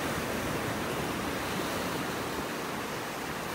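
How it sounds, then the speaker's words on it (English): Ocean waves washing in and out on a beach in North Naples, Florida, a constant broadband roar of surf, steady and fairly close, with no voices. "The waves coming in and out here."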